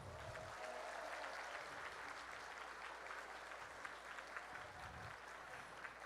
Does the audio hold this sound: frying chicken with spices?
no